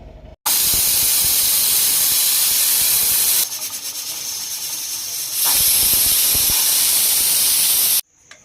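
A pressure cooker cooking vegetable pulao releases steam in a loud, continuous hiss that runs for about seven seconds. The tone roughens and dips midway, then surges again before stopping abruptly.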